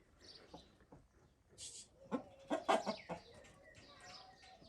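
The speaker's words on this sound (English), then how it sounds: "Never seen this kind of chicken in Islamabad." Chickens of an unusual, very furry breed on a Pakistani mountain outing, clucking in short, close bursts with a louder cluster midway and quieter calls around it, and no talk.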